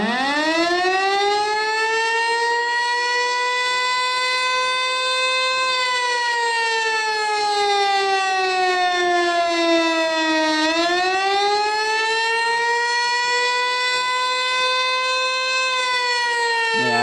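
Outdoor civil defense warning siren sounding the attack signal, a loud, sustained wail that slowly falls and rises in pitch, heard alone for about seventeen seconds.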